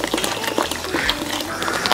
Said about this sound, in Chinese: 锅头水开了